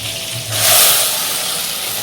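Water rinsing during cooking of pineapple chutney, a broad steady hiss that swells briefly near the middle, loud and close with no talk.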